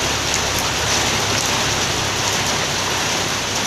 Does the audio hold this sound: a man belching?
no